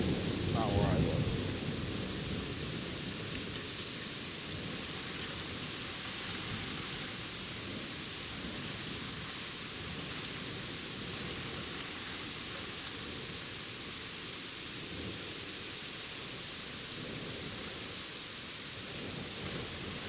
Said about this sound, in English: Now that's a thunderstorm.